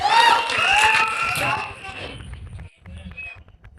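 An audience at a film trailer launch event cheers and shouts loudly, with a voice calling out over the noise, before the crowd sound fades into scattered claps and murmurs.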